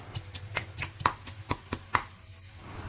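Garlic, pepper and coriander root being finely chopped with a knife on a board: quick irregular knocks, close and crisp, with no voices.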